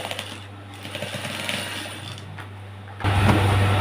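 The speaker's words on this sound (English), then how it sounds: "I'll sew this all the way around" A sewing machine stitches an elastic band onto a skirt waist, a steady buzzing hum that jumps louder and faster near the end, close by, with no talking.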